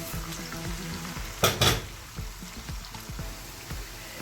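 Chopped onions sautéing in oil for a boiled white bean dish, a soft crackling fry with a brief louder scrape of stirring partway through, close and without voices.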